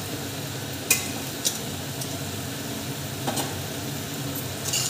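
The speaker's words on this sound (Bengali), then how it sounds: "এবারে আমি মাছের মাথাগুলো দিয়ে দিচ্ছি।" Fish heads fry in a pan with potatoes and cabbage, a steady soft sizzle broken by a few sharp clinks of a utensil stirring, close and fairly quiet, without voices.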